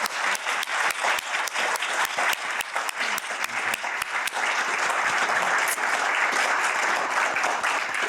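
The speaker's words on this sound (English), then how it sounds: "please give our speakers a round of applause and gratitude" Audience applause for the speakers at a peacebuilding talk, a dense, steady roar of many hands clapping that swells slightly louder in the second half and continues throughout.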